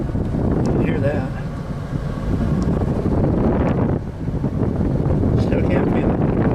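A Chevy Astro van's blower motor runs, a continuous breathy airflow rush that dips and swells slightly as the speed changes, heard under people talking.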